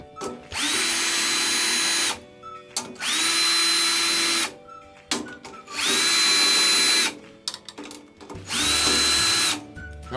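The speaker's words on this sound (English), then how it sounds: "I'm gonna just tighten them all up pretty tight with the drill" A power drill tightens drum tension rods in four separate bursts of about two seconds each, with short pauses between, close and loud, no talking.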